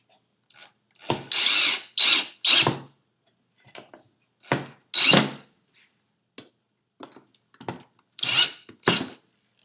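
A power drill whirs in several short bursts, revving up and stopping with quiet gaps between, close by, as screws are driven into wood pieces of a soap mold; the drill is dying.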